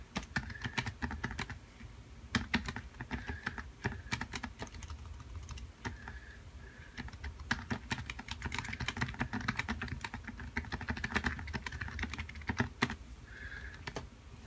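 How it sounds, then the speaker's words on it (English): Rapid, uneven typing on a computer keyboard as a short message is entered, with close, clear key clicks in bursts and small pauses throughout. "I'm gonna type my little message."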